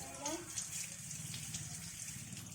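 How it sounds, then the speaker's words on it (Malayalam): Food being washed under a running tap, a steady broadband gush of water filling the scene, fairly close and continuous, with a voice talking over it. "നമുക്ക് കഴുകാം."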